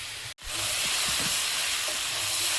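Boiled chicken and potato pieces sauté in hot oil in a pan with a loud, steady, close sizzle. The hiss cuts out for a moment near the start, then continues unbroken, with no talk.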